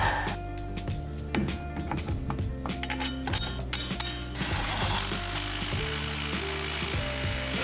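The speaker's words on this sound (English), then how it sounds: "I attach it to the gearbox and screw in the fasteners connecting it to the axle" Mechanical ratcheting and metallic clicks from fasteners being screwed in to attach a drive shaft to a manual gearbox during a drivetrain restoration, steady and close, with a sustained hiss taking over in the latter half.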